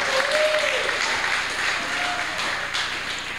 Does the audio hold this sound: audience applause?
yes